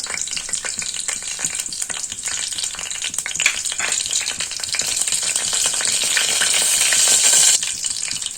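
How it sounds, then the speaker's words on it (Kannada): Pulao spice items drop into hot oil and fry with a loud, close, continuous sizzle that grows steadily stronger, broken by light stirring clinks. "ಎಣ್ಣೆ ಕಾದಿದೆ ಇವಾಗ ಪಲಾವ್ ಐಟಮ್ ಏನು ತಗೊಂಡಿದ್ದೆ ಅದನ್ನು ನಾನಿಲ್ಲಿ ಹಾಕೋತಿದ್ದೀನಿ"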